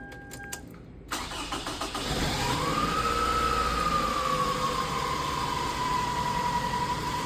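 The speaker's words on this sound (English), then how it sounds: "We come over here and we turn our car on." A car engine cranks briefly after a few clicks, catches and settles into a steady idle, with a tonal whine that rises and then levels off, heard up close.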